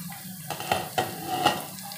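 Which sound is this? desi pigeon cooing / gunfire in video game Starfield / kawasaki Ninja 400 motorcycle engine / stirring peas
stirring peas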